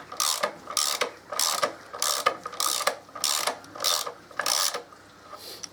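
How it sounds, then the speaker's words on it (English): A ratchet undoes the bolts on the primary chain tensioner of a 2014 Harley-Davidson, giving about nine rhythmic bursts of clicking as the handle swings back and forth, close and clear with no talk. "undo the two bolts that hold the tensioner on"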